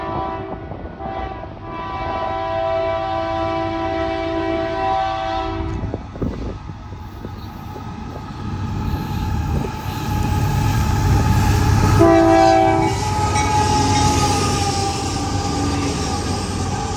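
A freight train led by Union Pacific locomotive 7172 rumbles past nearby at Gilbert siding with a loud horn sounding in long blasts, wheels and engine noise building and staying heavy.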